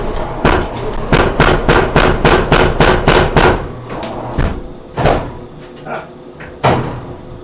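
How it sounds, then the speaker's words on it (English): A power hammer pounding in a forge shop, its ram sticking in the guides, hits a fast run of loud, evenly spaced blows, then slows to a few irregular, separated strikes. "Something going on with my hammer. Actually, it's sticking in the guides."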